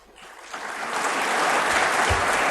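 Audience applause swells at an event in Pakistan's Senate welcoming Prime Minister Imran Khan, a broad wash of many hands clapping that builds quickly and holds steady and loud throughout.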